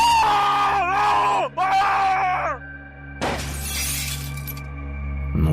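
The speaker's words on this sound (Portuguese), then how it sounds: "um solitário homem adormecido salta da janela depois de um apavorante grito" A horror narration effect in which a man screams, two wavering cries, followed by a window's glass shattering loudly with scattered debris, then a low rumble rising at the end.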